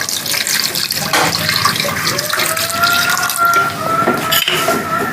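Tap water runs and splashes into a pot of potatoes set to boil for beef cutlets, a steady loud pour with a faint rising fill tone and no talking.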